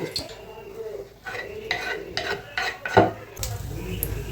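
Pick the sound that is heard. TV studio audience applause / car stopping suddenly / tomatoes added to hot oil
tomatoes added to hot oil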